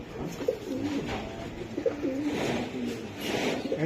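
Kaldam pigeon, a racing giribaj breed, cooing in low, throaty phrases that repeat in a steady rhythm at close range, with no talk over it.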